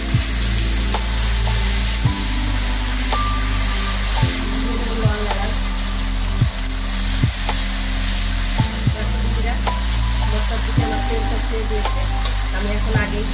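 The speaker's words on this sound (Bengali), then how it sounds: "আমি সোমবারের জন্য দিয়ে দেবো তেজপাতা, শুকনো লঙ্কা, দিয়ে দেবো জিরে" Bay leaf, dried chilli and cumin sizzle loudly in hot oil, a close, dense crackle punctuated by regular scrapes and knocks of a spoon stirring the pan roughly every two seconds.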